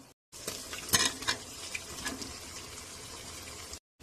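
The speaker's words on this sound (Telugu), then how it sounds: "ఉడకబెట్టుకున్న చికెన్ ని మసాలాలో వేసేద్దాం" Boiled chicken tipped into frying masala and stirred, a soft splash and clatter of pieces landing, then steady sizzling with a few spoon scrapes in the pan, close and alone.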